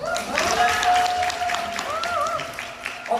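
An audience at a company presentation claps through a short burst of applause at moderate volume, with voices mixed in.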